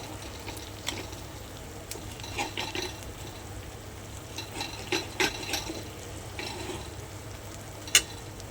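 Bombay duck fish frying in a pan, a low steady sizzle with soft stirring scrapes and a few light clinks of utensils, one sharper knock near the end.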